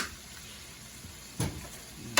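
Food coated in liquid aminos stirred in a frying pan, a soft steady sizzle with a couple of brief scraping clatters from the utensil near the end, close and quiet.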